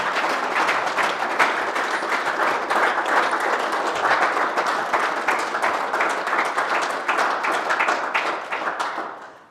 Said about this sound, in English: give him and everybody another round of applause